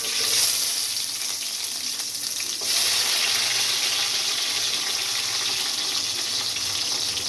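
Chopped tomato and onion hitting hot oil with fenugreek seeds in a pan, a loud, steady hiss that surges sharply as the vegetables go in and then keeps sizzling evenly.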